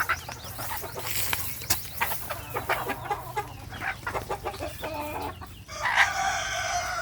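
Native chickens cluck busily and up close while a rooster crows, with scattered sharp calls over a constant farmyard background that grows louder near the end.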